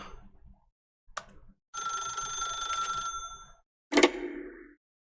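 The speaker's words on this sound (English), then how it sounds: "pick up the phone" An old-style telephone bell in the video game The Stanley Parable Ultra Deluxe rings in two bursts separated by a short pause, close and clear, with a brief click before and a clunk after.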